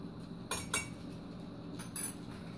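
A fork or spoon mixes food in a pot on the stove, making three short, crisp metallic clinks spaced apart over a low, steady kitchen background.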